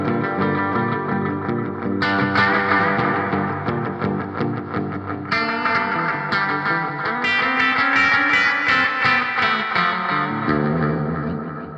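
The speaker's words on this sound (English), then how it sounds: "the delay sounds awesome, and in parallel with some reverb, you get some awesome ambient bass effects" Bass guitar through the Mercuriall Reaxis plugin with delay and reverb, sustained distorted notes and chords that ring out into echoing, ambient repeats, changing pitch every couple of seconds, loud and continuous.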